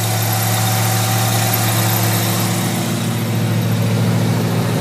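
A crate motor in a 1950 Chevrolet 3100 truck idles with dual exhaust, a steady, loud, deep rumble heard close and alone.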